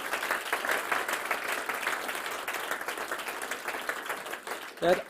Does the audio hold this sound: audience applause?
yes